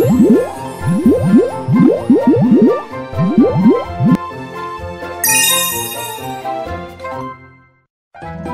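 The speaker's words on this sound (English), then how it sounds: "Make bubbles on the car." Bubbly squishing and popping swoops play over a bright cartoon music bed as soap foam builds on a little toy bus, with a shimmering tinkle near the end and no talking.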